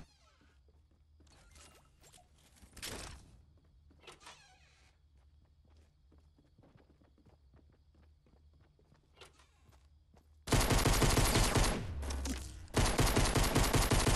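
Pistol shots ring out in a battle royale shooter game, a few sharp cracks early amid footsteps and gear rustle, then a loud dense burst of gunfire near the end.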